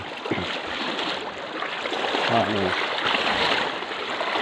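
A wide river rushes steadily and fairly loudly throughout a foot crossing, a continuous broad wash of moving water with a brief splash-like burst midway.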